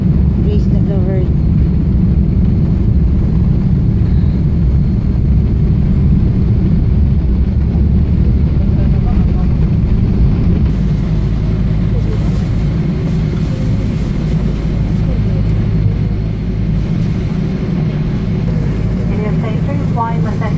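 A passenger airplane touches down and rolls out at Kansai Osaka Airport, heard from inside the cabin as a loud, steady engine roar and rumble that shifts in tone partway through, with people talking over it throughout.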